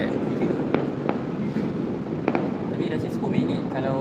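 Fireworks at the KLCC New Year celebration in Kuala Lumpur burst as several sharp bangs at a distance, heard under a busy crowd murmur and people talking.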